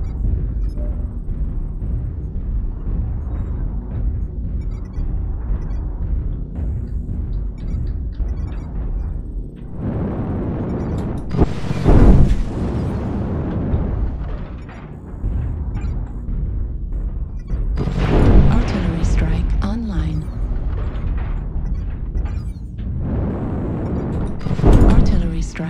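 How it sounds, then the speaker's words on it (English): Artillery-strike explosions in a shooter video game arrive as three heavy booming blasts spaced several seconds apart, each with a long rumbling tail over a steady din of battle noise, with voices speaking throughout. "Artillery strike online. Artillery strike activated."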